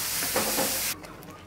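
Warm water poured into frying masala gravy for paneer butter masala, making a loud, steady hiss that cuts off abruptly about two-thirds through, leaving quiet clatter.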